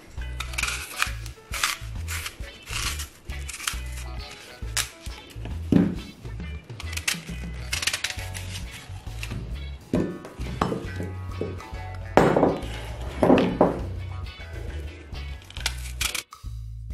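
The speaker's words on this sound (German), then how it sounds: "holen uns einmal die Äpfel. Die schneiden wir dann in kleine Stückchen." Apples being cut into small pieces for a juicy apple cake, a series of sharp knife clicks and chops against a board in an irregular rhythm, close and distinct with brief pauses.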